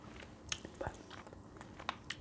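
Curry chicken roti is bitten and chewed up close, with soft crunchy bites and moist mouth sounds scattered through a quiet background.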